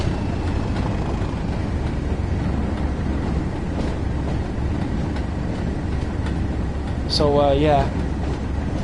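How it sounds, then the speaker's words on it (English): A Class 37 diesel locomotive in Train Sim World 5 on the Tees Valley Line gives a steady low engine rumble throughout, with a person talking over it. "Class 37 is a lovely locomotive"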